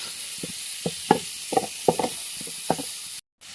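Prawns sizzling as they tawa-fry on a hot griddle, with a steady hiss and several sharp spatula knocks and scrapes spaced through it, close and fairly loud, ending in a sudden cut to silence.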